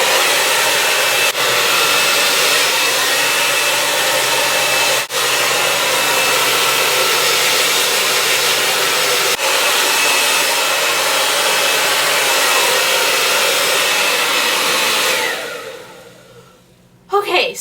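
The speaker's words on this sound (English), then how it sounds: "We're going to blow dry your hair just without a brush, just to get rid of all this moisture" A handheld hair dryer runs steadily at close range on damp hair, used without a brush, making a loud continuous whoosh that cuts out near the end.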